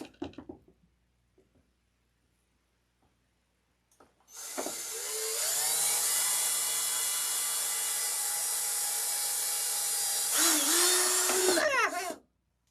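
A power drill whines steadily for several seconds close by, a loud continuous high-pitched buzz that winds down at the end, after a few quiet knocks.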